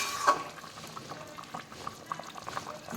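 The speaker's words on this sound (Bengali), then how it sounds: "এবার দেখো ঝোলটা ফুটে উঠেছে" A pot of fish curry broth bubbles on the stove, a soft, close simmer of irregular pops and burbles without any talking.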